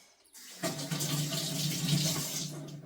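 A kitchen or bathroom tap bursts on after a quiet moment, and water gushes steadily while an item is rinsed under the stream, a close, continuous splashing rush.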